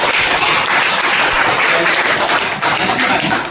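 A school class claps together, a dense, steady burst of loud applause filling the room for a few seconds without a break.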